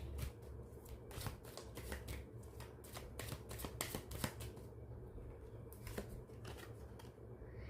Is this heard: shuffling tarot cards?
yes